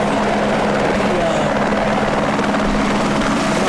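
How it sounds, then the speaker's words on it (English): A helicopter lands at midfield of a high school football stadium during a Show Low vs Blue Ridge game, its loud, steady rotor roar filling the whole moment up close with no pauses. "it's a little bit loud as this helicopter is landing right at the moment."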